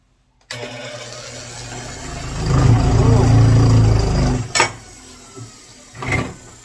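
Wood lathe spinning a wooden platter up to a higher speed, its steady mechanical drone swelling loud for a couple of seconds before easing off, followed by a few brief knocks and scrapes.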